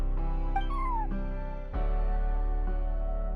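A cat in the video game Genshin Impact lets out one short, rising-then-falling meow over a steady droning game music bed, clear and close.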